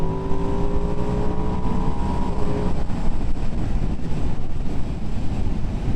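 A Ducati Streetfighter V2S motorcycle engine revs up under riding, its rising whine giving way to a loud, rough roar buried in heavy wind rush, close and continuous.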